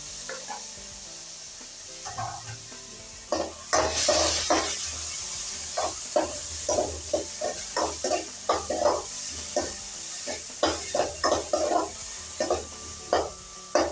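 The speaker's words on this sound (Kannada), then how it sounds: "ಹಾಗಾಗಿ ಚೆನ್ನಾಗಿ ಫ್ರೈ ಮಾಡ್ಕೊತಾ ಇದ್ದೀನಿ." Onions and tomatoes frying in a pan for a homely-style Maggi noodle dish, cooked over low to medium flame: steady close sizzle with a busy run of scraping, stirring clicks against the pan, no talk.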